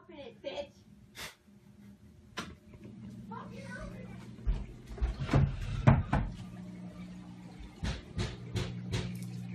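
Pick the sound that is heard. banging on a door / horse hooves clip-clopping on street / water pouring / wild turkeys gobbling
banging on a door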